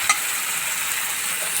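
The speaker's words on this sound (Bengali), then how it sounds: "এবার মশলাটাকে ভালো করে নেড়ে চেড়ে কষিয়ে নেব।" Masala spice paste frying in a pan for a Bangladeshi egg and potato curry, a steady close hiss of sizzling oil with a faint scrape of stirring near the start, lasting under two seconds with no voices.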